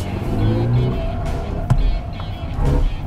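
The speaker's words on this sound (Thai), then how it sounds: "ยางลั่นตลอดแต่รถเอาอยู่อ่ะ" A BMW i5 electric sedan squeals its tires under hard driving, a sustained rubbery screech over steady road and motor noise with a sharp burst near the middle, and voices speak over it.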